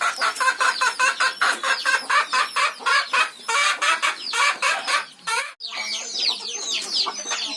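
Several chickens cluck in rapid, steady bursts close by while pecking at feed on a farm, a dense chattering chorus with occasional louder squawks.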